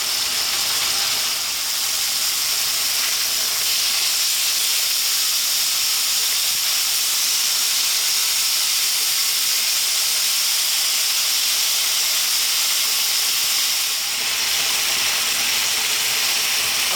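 Beef bistek frying in a pan, a steady, loud broadband sizzle and hiss that runs unbroken for the whole stretch with no voices.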